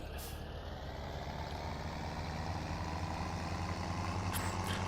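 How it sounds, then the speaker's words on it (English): A tractor engine in Farming Simulator 17 drones steadily and loudly up close, a constant low rumble with a hiss of air and faint high beeps near the start and end. "The engine noise is getting really, really loud in my head."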